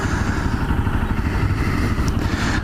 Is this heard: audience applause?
no